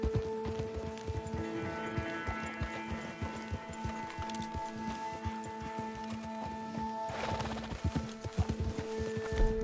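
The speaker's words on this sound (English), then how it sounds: "Let's leave the horses here and go the rest on foot." Horses gallop in Red Dead Redemption 2, a fast, steady run of hoofbeats with sustained musical tones from the game underneath, continuing throughout with a brief swell of noise near the end.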